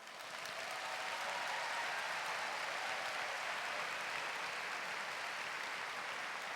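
A church congregation applauds together in a steady, dense wash of clapping that holds at an even level for several seconds, filling the space without voices rising above it.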